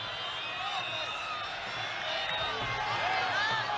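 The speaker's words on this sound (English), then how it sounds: "the cheer goes up for Mick McCarthy's attempt at the long throw" A stadium crowd at an international friendly football match between the Republic of Ireland and the USSR cheers a long throw by Mick McCarthy, a broad distant roar with scattered whoops that swells slightly, with commentary heard over it.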